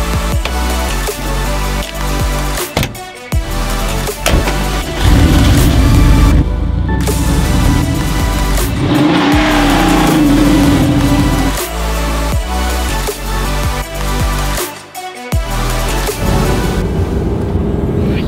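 Porsche 964 RS on a ride, with loud, continuous engine drone and rising revs broken by brief gaps as gears shift, heard close and without speech.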